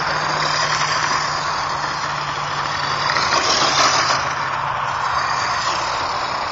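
An electric ZMT-10 RC truggy spins its wheels in gravel, giving a steady, loud whirring roar with continuous grainy crunching throughout and no voices.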